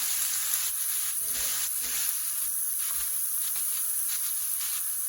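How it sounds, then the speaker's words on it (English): A whole onion sautéing in an Instant Pot for Greek pastitsio, giving a steady bright sizzle with brief stirring scrapes and bursts of hiss, close and continuous with no talk. "And we're going to let this onion get translucent"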